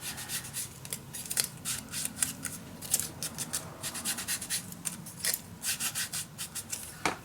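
Paper edges are smudged by hand for a Stamperia Savana envelope mini album, giving close, repeated rubbing and scraping strokes in an uneven rhythm, some louder than others, with no talking.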